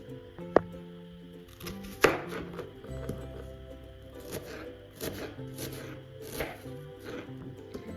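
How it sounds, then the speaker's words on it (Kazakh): Knife chopping onions and potatoes on a board in scattered, uneven strokes, with two sharper knocks early on and softer cutting sounds after. "Ендігі кезекте әрмен қарай пиязымызды, картофелімізді ұсақтап турап аламыз."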